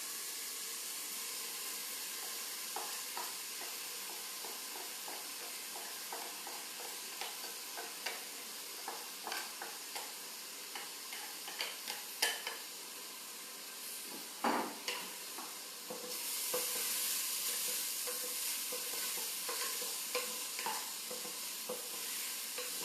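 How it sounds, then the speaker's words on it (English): Rice is stirred in a frying pan with translucent onions, sizzling steadily with repeated close scraping clicks; a louder steamy hiss swells near the end. "Stir the rice till you get a bit of a crackling sound."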